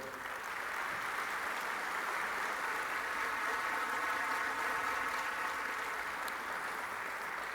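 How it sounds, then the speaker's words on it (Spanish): An audience at a solemn session of the Quito Metropolitan District council applauds the city's fire brigade, a broad, even wash of clapping that stays at a steady level throughout without voices over it. "Lo hicimos con el maravilloso y valiente cuerpo de bomberos, para el cual pido un aplauso, por favor."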